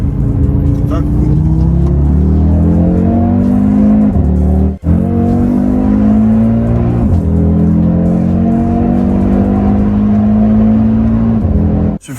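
A 2020 Audi RS Q3 Sportback's engine pulls hard on a public road, loud and close, rising steadily through gears with brief dips at each shift, about three long climbs in all.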